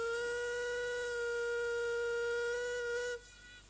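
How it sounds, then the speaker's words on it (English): A loud, sustained Caledonian steam locomotive hooter whistle, like a factory hooter, with a deep, rich chord-like tone sounds steadily for about three seconds, then cuts off, leaving a faint hiss. "Number 2 has a Caledonian hooter, in effect. It's somewhat like a factory hooter."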